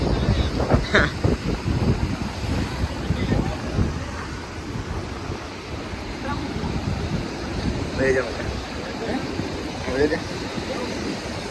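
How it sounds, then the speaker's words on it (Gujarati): Cold wind sweeps along the seashore near Dwarka, a constant gusty rush of wind and distant surf running beneath people talking. "ઠંડુ વાતાવરણ છે અને પવનનું મોજું ને એવું ચાલે છે."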